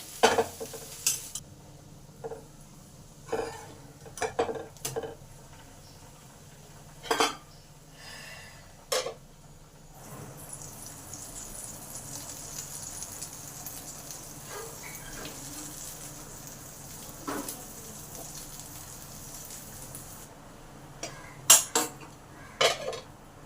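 Fish roe patori wrapped in bottle gourd leaves frying in a covered pan, a low steady sizzle broken by clinks and scrapes of a utensil turning the parcels and knocking the pan.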